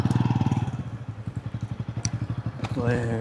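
A motorbike engine throbs in a steady rapid pulse close by on a road in Manang, its note shifting as it moves, with a brief thud and a voice near the end.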